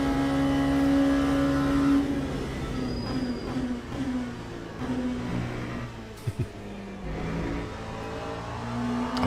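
Race car engines in Le Mans Ultimate during a 24 Hours of Le Mans race, a loud sustained drone with steady tonal whine that shifts pitch as cars pass, plus a few sharp clunks near the end.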